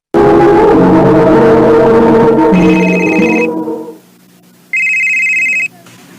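Telephone ringing in a radio drama, loud bursts of electronic ringing over a music bed that fades out, then one more ring alone after a short pause.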